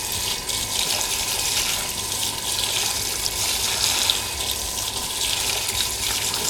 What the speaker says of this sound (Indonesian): Kita siram biar dia basah dulu kan ya.